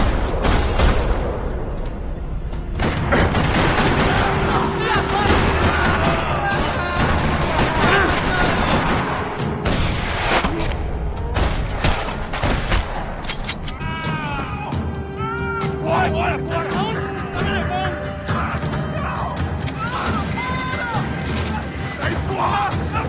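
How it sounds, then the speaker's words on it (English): Gunfire crackles across a parking lot in the Max Payne 3 video game, bursts and single shots stacked over loud, dense action noise for most of the stretch, with mechanical clatter mixed in. "Another parking lot rattling with gunfire."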